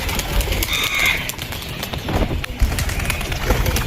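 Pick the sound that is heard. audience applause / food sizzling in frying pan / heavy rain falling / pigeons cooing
pigeons cooing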